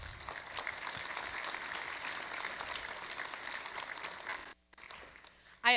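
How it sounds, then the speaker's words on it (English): Steady, moderately distant applause from an audience at a produce-industry educational session on food waste, continuing evenly before breaking off abruptly, followed by a brief louder noise at the end. "Let's give them a round of applause."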